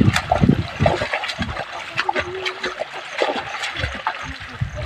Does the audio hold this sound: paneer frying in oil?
no